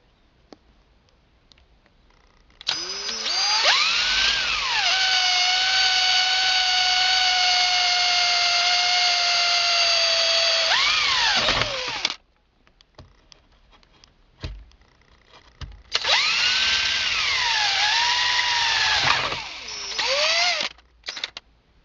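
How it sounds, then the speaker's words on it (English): A power drill bores into a Dodge Charger panel during a stereo install, in two long bursts of high motor whine that dip and swoop in pitch as the bit bites, separated by a short pause. "I'm gonna drill in there and I'm gonna cut it with some shears"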